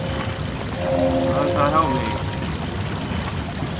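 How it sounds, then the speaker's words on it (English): Water gushing from creature statues in the video game, a steady, moderate rush of pouring water running throughout while someone speaks briefly over it. "Clean water is gushing out of the creatures."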